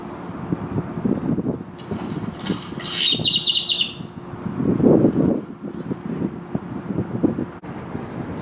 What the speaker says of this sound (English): You're a loud bird.